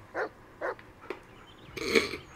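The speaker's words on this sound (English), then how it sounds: "Listen to his barking and watch his body language." A dog barks in the Blair Witch video game, with three short separate barks followed by a longer, louder burst of yipping at the end, all close and clear.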